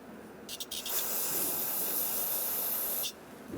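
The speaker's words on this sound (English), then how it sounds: "Use a little parts cleaner." Parts cleaner sprays in a short burst, then a steady close hiss for a few seconds into the hole of a brake pressure switch on a Ford Ranger master cylinder, with no voices.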